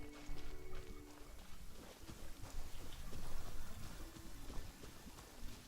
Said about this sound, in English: Stroll in the middle of a downpour certainly rouses the spirit.